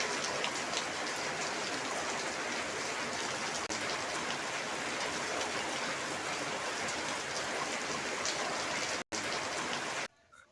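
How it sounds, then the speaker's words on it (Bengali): Heavy monsoon downpour on a farm, a dense, loud and steady roar of rain hammering surfaces, continuous throughout with a momentary dropout near the end. "আমি বাড়িতে পৌঁছাতে পৌঁছাতে মুষলধারে বৃষ্টি শুরু হয়ে গিয়েছিল"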